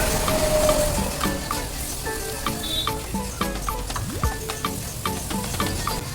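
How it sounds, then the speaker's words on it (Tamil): Egg and onion sizzle steadily in a hot pan while cooking kothu parotta, a continuous close frying hiss with scattered crackles and a few light utensil scrapes. "இப்போ முட்டையை சேர்த்துட்டு நல்லா வதக்கிட்டுக்கோங்க"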